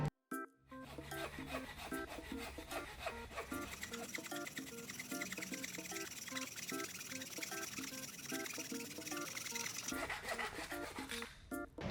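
A PVC 240 camping saw cuts through wood with fast, rhythmic back-and-forth rasping strokes, close and continuous for several seconds before stopping.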